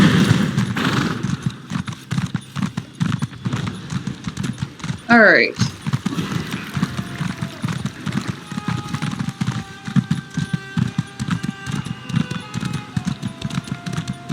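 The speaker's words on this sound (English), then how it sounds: "Let's get a horse." Horse hooves in the fantasy game Elder Scrolls Online clip-clop in a steady rhythm beneath near-continuous talk, with a brief whinny partway through and faint jingling tack.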